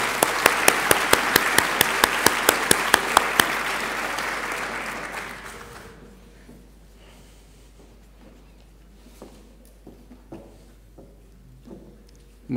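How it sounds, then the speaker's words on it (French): An audience at a graduation ceremony applauds the outgoing student association presidents. A dense wash of clapping with a few sharp, regular claps on top lasts about six seconds, then fades to quiet room noise with scattered shuffles. "On peut les applaudir."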